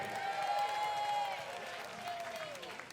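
An audience at a battle of the bands concert applauds in a steady, dense wash of clapping, with a sustained whistle-like tone running through it before it gradually eases off.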